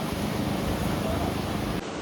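Steady broadband wash of waves breaking on Chirala's rock beach, with constant wind rumble on the microphone and no distinct individual crashes, sounding continuous and close.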